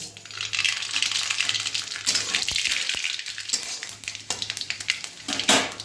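Dried red chillies and mustard seeds sizzle in hot oil as a tempering, a loud, bright crackle with scattered sharp pops and brief dips, heard close up with no talking.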